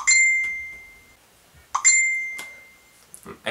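A mobile phone rings with two bright electronic tones, each held about a second with a short gap between, loud and close in an otherwise quiet room.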